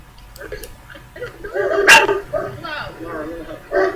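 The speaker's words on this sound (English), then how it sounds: "No, barking." A dog at a kennel barks and yips close by with a whimpering edge, several short sharp calls scattered over a background of voices and movement.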